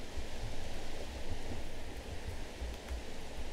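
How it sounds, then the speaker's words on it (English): Steady rain falling in a video game, a continuous even hiss of drops with faint low rumbling beneath, heard on its own without talk. "when will that rain let up? We should probably skip until this rain lets up."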